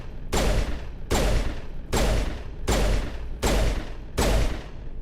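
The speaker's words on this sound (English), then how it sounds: "Check out how slow this gun fires." Six heavy, booming shots from a slow-firing hand-cannon-style gun in Mass Effect, evenly spaced about a second apart, each loud with a long rumbling tail and no voices.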